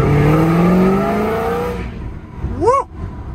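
A boosted Pontiac GTO with an LS2 V8 pulls at wide open throttle in second gear, a loud rising engine roar that fades away over nearly two seconds, followed by a brief shout.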